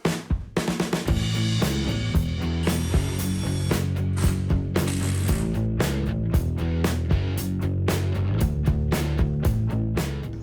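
A hand ratchet driving screws to fix wooden trim back onto a shed workshop mezzanine, a loud, close, steady run of rapid clicking pawl strokes with regular louder pulls, no voices.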